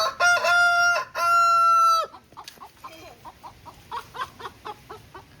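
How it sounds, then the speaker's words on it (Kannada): Vietnamese rooster in a village, two long crows ringing out close and loud in succession, followed by a run of short clucks and calls as the bird settles. "ವಿಯೆಟ್ನಾಮಿ ಹುಂಜ, ಒಳ್ಳೆ ಕಟ್ಟದ ಕೋಳಿ"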